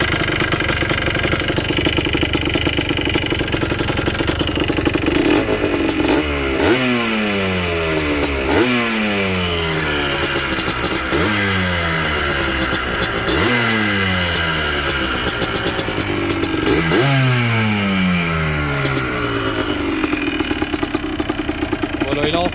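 Yamaha Blaster 200 quad engine, about 15 years old and suspected to need piston work, running close by with a steady idle broken by repeated revs that rise and fall, a light clacking noted in the engine, with talk over it.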